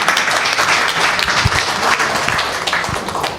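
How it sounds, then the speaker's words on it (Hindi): An audience at a literary gathering welcoming a speaker named Saleem with sustained, dense applause, a steady rushing wash of many hands, close and fairly loud throughout. "तालियों से स्वागत कीजिए।"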